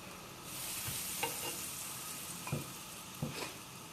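A paratha cooks in butter in a hot pan with a steady, even sizzle, broken by a few soft taps and scrapes of a utensil, close and continuous.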